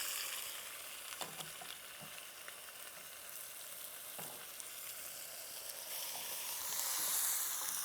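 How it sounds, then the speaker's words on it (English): Stuffed pork chops searing in a Copper Chef pan, a steady hiss and sizzle of hot fat with faint crackles and occasional scrapes, fairly quiet and close with no talk. "now I'm gonna get a nice sear on these"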